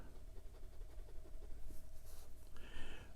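A Penbbs 499 fountain pen with a fine steel nib scratches across paper, a faint, close, continuous scribbling with soft strokes and light background hiss.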